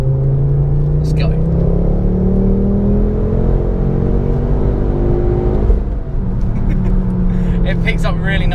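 A 320bhp Ford Focus ST pulls hard in third gear, its engine note climbing steadily in pitch as it accelerates, loud and close from inside the cabin, then easing briefly before building again, with a voice heard over it.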